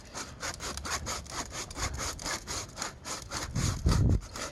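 Steady back-and-forth scraping of a rasp across a horse's hoof during a basic trim between farrier visits, smoothing the underside flat; rhythmic, close and continuous strokes, growing heavier near the end, with no talk.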